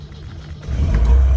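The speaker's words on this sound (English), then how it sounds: "Well, I hear the fuel pump." A classic car's electric fuel pump switches on with the ignition key, a low steady hum that swells into a louder, fuller drone partway through, heard up close with no talking.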